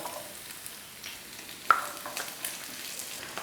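Sliced onions sautéing in a pan give a quiet, steady sizzle with a sharp utensil knock about halfway through and a few softer scrapes after it, heard close with no talking.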